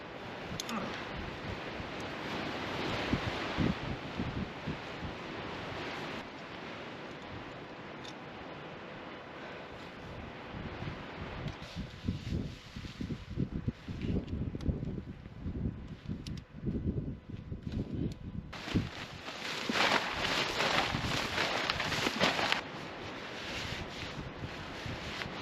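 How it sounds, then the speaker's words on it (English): Wind buffets the microphone on an open Lake District hillside at night, a steady rushing roar with stronger gusts swelling in bursts, loud and close throughout with no talking. "Oh, blimey wind."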